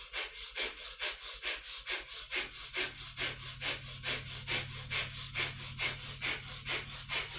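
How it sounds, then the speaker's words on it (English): Breath of fire in kundalini yoga: rapid, rhythmic forceful exhalations through the nose, about three per second, steady and close, with no talking. "it's a breath of fire"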